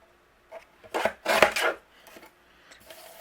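Cardstock being trimmed with a paper trimmer during card making, a few short scraping and sliding bursts of the blade along the sheet, close and fairly quiet between gaps of near silence.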